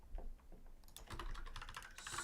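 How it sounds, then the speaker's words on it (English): Fingers tap quickly on an American-layout computer keyboard, starting as a few sparse clicks and then turning into a dense run of close, crisp keystrokes. "I hate this keyboard. It's an American layout, and the enter key is so bad."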